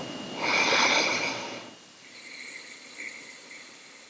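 An ujjayi breath, a soft throat-squeezed exhale rushing out as a close breathy hiss for about a second, followed by quieter, fainter breathing, with no talk.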